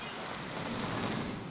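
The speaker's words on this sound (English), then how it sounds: "water hoses provide the sound and feel of rain for the hurricane simulation" Steady, even hiss of water from hoses spraying down like heavy rain in a hurricane simulation, constant and fairly close with no breaks or voices.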